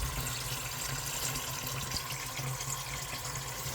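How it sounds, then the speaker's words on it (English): Water drains steadily from a Worcester-Bosch boiler into a bucket underneath, a constant close hissing splash with no break and no talking. "So that's draining down."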